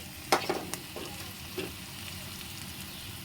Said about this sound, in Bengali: জিরে, ধনে, কাশ্মীরি লঙ্কা দিয়ে আবার একটু নাড়লাম